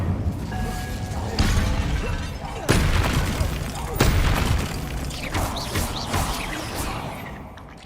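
An Incendio fire spell blasting in the video game Hogwarts Legacy, a series of loud booming, crashing bursts with crackling debris, dense and close, while game voices and combat noise carry on around it.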